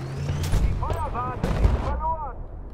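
Gunfire in Battlefield: Bad Company 2: a rapid cluster of sharp, loud shots and bursts with booming low impacts, crackling repeatedly across a few seconds amid chaotic battle noise.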